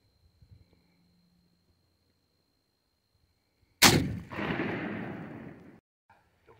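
A .50 caliber Hawken black powder rifle fires a Hornady Great Plains conical bullet at a pumpkin, a single loud close blast followed by a long rumbling roll that fades over about two seconds, after near-silent handling.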